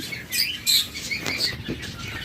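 Caged lovebirds let out a few faint, high chirps and squeaks close by over a soft background hiss.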